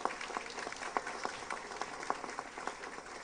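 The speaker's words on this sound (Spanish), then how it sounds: "Un fuerte aplauso para el doctor Carlos Novoa" Applause at a university law event in honor of Dr. Carlos Novoa, a modest, fairly faint patter of clapping from a small audience with scattered sharper claps.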